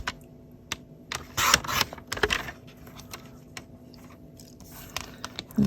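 Scissors snip through designer series paper in a series of short, close, crisp cuts with quiet pauses between them, sounding light and papery with no speech.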